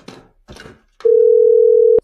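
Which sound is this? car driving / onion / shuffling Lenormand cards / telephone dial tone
telephone dial tone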